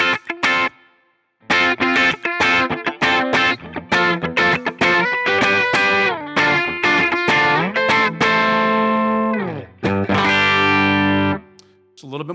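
Distorted electric guitar on the neck pickup through a Line 6 Helix worship patch, with a crunchy, overdriven amp tone, chords and single notes played in bursts with brief pauses, loud and close.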